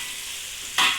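Onions sautéing in hot oil for Malaysian nasi lemak give a steady sizzle that swells abruptly louder near the end, close and alone with no voices.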